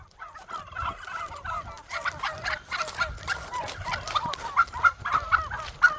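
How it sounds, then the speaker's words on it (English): Several turkeys gobble from a farm coop in repeated bursts, overlapping and fairly close, with clucking fowl and outdoor background noise between calls. "What the heck are those turkeys saying?"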